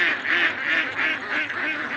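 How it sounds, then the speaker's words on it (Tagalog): Hungry domestic ducks quack noisily in a flock, a rapid overlapping chorus of nasal calls swelling and dipping in steady pulses, close and loud. "sobrang ingay po talaga ng mga alagang itik natin ngayon kasi yun nga po mga kabebe ay gutom na po talaga sila"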